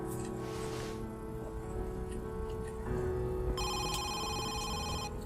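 A telephone rings in a Home Sweet Home game episode, with a steady electronic trill entering partway through over a constant humming background and faint ticking, with no talking.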